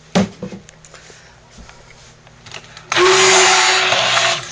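A stick blender with its beater pressed to the bottom of a crock whirs loudly and steadily, blending lye into oils for hot process soap, after a few quieter knocks and clatters.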